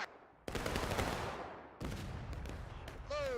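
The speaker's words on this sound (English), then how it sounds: "Beautiful volley." Massed musket volleys crash out in the War of Rights winter event online battle, two loud ragged bursts of many shots with rolling echo, followed by a shouting voice near the end.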